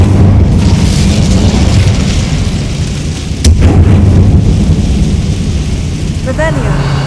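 Incendio fire spell in Hogwarts Legacy on Xbox Series S: a loud, roaring rumble of flame and blast that runs throughout, with a sharp crack midway and a brief tonal chime near the end.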